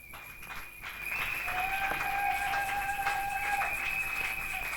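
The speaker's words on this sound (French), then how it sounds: "Vos acclamations, s'il vous plaît" A church congregation at a women's convention claps and cheers in a sustained wash of applause, with a high whistle-like tone holding above the crowd noise, fairly loud and continuous.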